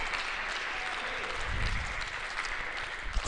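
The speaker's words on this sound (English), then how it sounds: "Crowd appreciative." A crowd at a university T20 cricket match between Melbourne and Monash gives a steady burst of moderately distant clapping, heard from the stands with faint commentary in the background.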